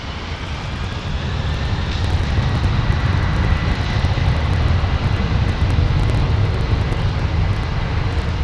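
Boeing 787 Dreamliner jet rumbling around a corner at London Heathrow, a broad steady roar that swells slightly and holds, heard from a distance with no voices over it.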